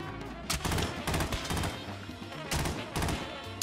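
Rapid automatic gunfire from an AK-47 in the shooter game Warzone cracks out in several loud close bursts with short pauses between them, and no voices are heard.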